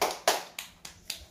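Audience applause at a presentation ceremony, heard as five or six distinct hand claps spaced evenly about a quarter second apart, moderately close and sparse rather than a full crowd.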